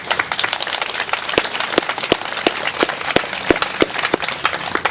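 An audience applauds at a St Lawrence gathering, a steady patter of many hands clapping together for several seconds, loud and close with no voices over it.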